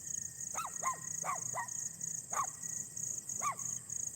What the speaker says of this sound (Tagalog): Ang ingay ng aso, galit na galit sa akin.